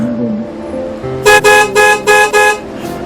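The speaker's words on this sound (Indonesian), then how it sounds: "Di klakson nggak dengar dari tadi?" Car horn honks in a rapid series of about five short blasts, loud and close, following a moment of low background noise with faint tones.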